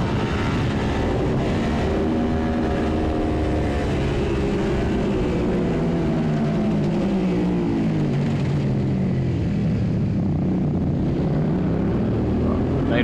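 A Suzuki SV650 twin-cylinder race motorcycle laps Mallory Park in a minitwins club race, its engine loud and close throughout, the pitch climbing and dropping steadily through gear changes and braking without a break.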